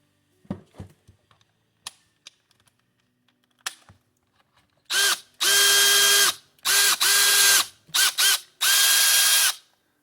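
After some light clicks and handling taps, a Milwaukee cordless power drill whirs loudly in several bursts of a second or two each, stopping and restarting.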